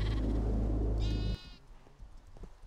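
A sheep in the Minecraft video game gives a single wavering bleat, heard clearly over a loud low rumble that suddenly drops away, leaving faint background sound.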